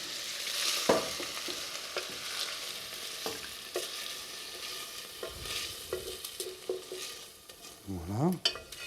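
Cooked mushrooms sizzle softly in a frying pan while a utensil stirs them, making scattered scrapes and taps. A short rising and falling squeak near the end briefly cuts through, with no voices.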